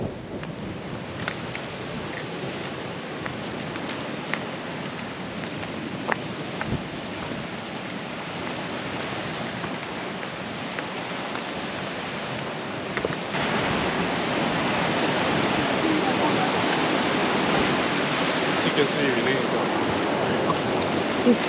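Choppy ocean waves washing over rocks into a natural pool on a Bahamas coastline, a steady broadband roar of surf and wind that grows louder partway through, with occasional splashes.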